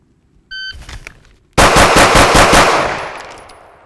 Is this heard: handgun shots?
yes